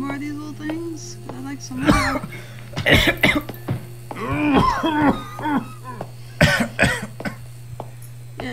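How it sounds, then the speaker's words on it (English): A character in the horror video game Maid of Sker coughs and clears the throat in several loud, close bursts spread across the stretch, with a low steady hum underneath and some speech-like sounds between the coughs. "Yes, yes, cough all you want."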